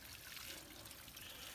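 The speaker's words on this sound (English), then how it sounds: "This is a freshwater spring coming right out of the side of the mountain." A freshwater spring trickling out of a mountainside on a hike, a faint, steady hiss of running water without breaks or voices.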